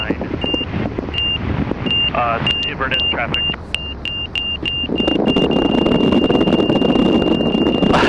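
Repeated high-pitched electronic warning beeps sound in an even rhythm over engine drone and radio-like talk in a Pipistrel Alpha Trainer light aircraft, with a louder rushing roar joining near the end.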